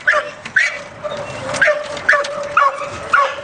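Pit bulls bark in a rapid series of about six sharp, fairly close barks with yipping edges, repeating at a quick irregular rhythm.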